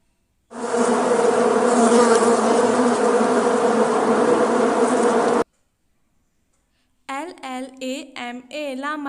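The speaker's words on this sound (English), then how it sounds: "B-E-E-B, bee means madhumakhi." Loud, continuous buzzing of a bee drones steadily for about five seconds, close and unbroken, then stops; after a short silence a voice speaks.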